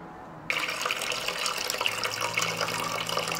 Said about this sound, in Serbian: vodu iz tegle presuću u šerpu